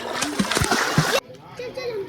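Someone plunges into farmhouse pool water, a loud close burst of splashing and splattering with excited children's voices over it, then abruptly quieter underwater-like gurgling.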